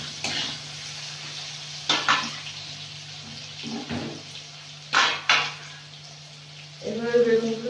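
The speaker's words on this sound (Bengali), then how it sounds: "এভাবে বেগুনগুলো ভেজে নেব।" Eggplant pieces seasoned with salt and turmeric fry in oil in a kadai in a village kitchen, a faint steady sizzle under a low hum, broken by several sharp clanks of a utensil against the pan.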